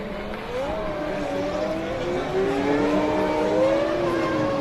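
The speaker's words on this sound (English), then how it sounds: "On board with the leader, the team have told Schumacher to be careful due to a rear brake problem" Onboard Formula One engine at the 2000 Canadian Grand Prix, the leading car running with a rear brake problem: a steady, close high-pitched engine whine that climbs gradually in pitch as it accelerates, continuous throughout.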